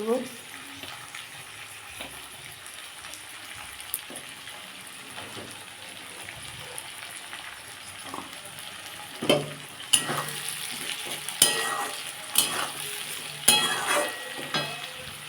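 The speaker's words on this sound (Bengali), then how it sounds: "তেলের মধ্যে সিম আলু আর পেঁয়াজ একসাথেই দিয়ে দিয়েছি এবার এটাকে আমি ভাজবো" Broad beans, potato and onion frying together in oil for a Bengali-style cabbage dish, a soft steady sizzle that grows louder and busier midway, with sharp clinks and scrapes of stirring on the pan.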